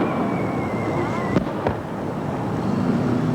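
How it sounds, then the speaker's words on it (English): Fireworks burst over a large evening outdoor celebration crowd, two sharp distant bangs standing out above a steady wash of wind and crowd noise, with a thin whistling tone fading beforehand. "A display of fireworks lit up the sky to top off the evening of celebration and music and fun."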